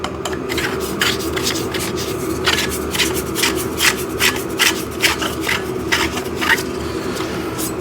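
Metal backdrop stand poles for a T-shape background stand are screwed together, producing a run of close, scraping, rasping twists in short repeated strokes, with no one talking.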